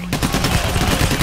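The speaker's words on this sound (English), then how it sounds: "Hey, who's shooting?" Heavy gunfire during a bank robbery in Payday, a loud, dense run of rapid shots with no break across the whole short burst.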